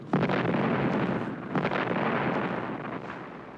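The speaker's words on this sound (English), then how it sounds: "a demolition team raced across Market to blow up the Monadnock building" A dynamite blast demolishes the Monadnock building in San Francisco after the 1906 earthquake, a loud, sustained rumbling roar with crackling bursts that slowly fades.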